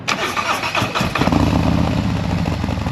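A Harley-Davidson Street Glide motorcycle engine cranks and catches, then settles into a rough, rumbling idle close by, with a voice briefly audible at the start.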